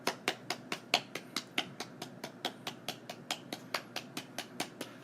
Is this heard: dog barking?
no